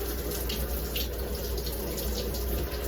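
Water runs steadily from a tap while conditioner is rinsed out of hair, a loud, close, continuous splashing stream with a faint high tone above it and no talking.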